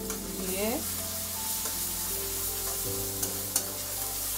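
Garlic and ginger paste sautéing in a pan for a jackfruit kofta curry, with a steady sizzle under background music tones and occasional clinks of a spoon stirring, fairly close and moderately loud.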